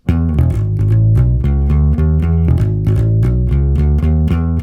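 Bass guitar playing a variation on a riff, the same notes as the main line but with a quick 16th-note rhythm, steady plucked notes up close and loud, unaccompanied.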